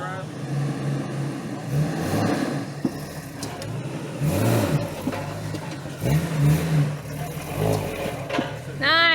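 Jeep Wrangler off-roading over logs, its engine revving and surging in repeated bursts, loud and close, with people talking over it.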